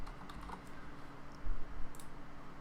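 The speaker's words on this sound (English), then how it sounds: "So just go ahead and type that in." A few light keystrokes on a computer keyboard while entering text into the StarCraft 2 map editor, soft scattered clicks over a low background hum.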